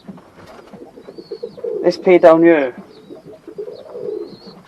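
Doves kept in a backyard aviary with pigeons give a soft cooing call near the middle, brief and moderately close, while a person talks quietly before and after.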